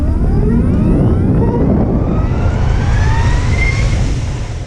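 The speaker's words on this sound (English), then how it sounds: "I'd love to hear more of that electric whine as you're winding the throttle on and giving it some welly." A Harley-Davidson LiveWire electric motorcycle passes close and loud, its rising electric whine sweeping upward over heavy road and wind rumble, then fading slightly at the end.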